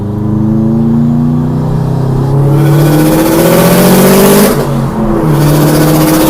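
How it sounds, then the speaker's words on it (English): A car engine revs hard with rising and falling pitch, loud and close, and a sharp backfire pop sounds near the middle of the run. "that backfire though"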